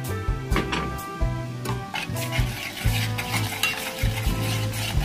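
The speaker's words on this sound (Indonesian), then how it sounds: "Tepung terigunya digoreng ya." Flour fries in a pan for a macaroni béchamel, with a soft sizzle under repeated scraping and tapping of a utensil stirring against the pan, close and steady.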